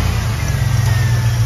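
A car engine fitted with a Mechman 370 alternator on a GM 4-pin setup runs steadily after starting, a close, continuous low rumble at an even idle with no talking.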